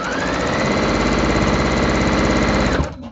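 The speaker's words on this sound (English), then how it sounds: "I'm doing my chain stitching" A home sewing machine runs steadily as it chain stitches pieces for a quilt. The motor hums and clatters close by in one unbroken run with a fast mechanical needle rhythm, then winds down and stops just before the end.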